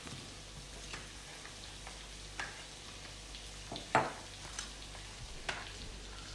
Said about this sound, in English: that onion softened off. The garlic I can really start to smell now as well, so that's cooking away nicely